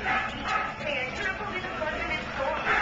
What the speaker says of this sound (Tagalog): May tahol pa ng aso, eh.